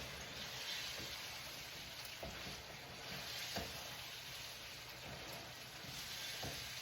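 Ground beef sloppy joe sauce simmers and sizzles in a pan as a steady, soft hiss and bubbling, with occasional light clicks of a utensil stirring.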